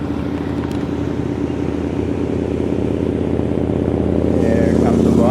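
A motorcycle on a road through Pennsylvania farmland gives a loud, steady engine drone that swells slightly toward the end as it approaches.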